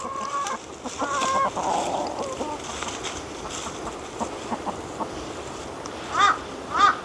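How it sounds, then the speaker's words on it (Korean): A crow caws repeatedly near a flock of chickens, with a few loud, harsh calls rising over the general clucking and rustle of the birds. "아, 저 까마귀 저거"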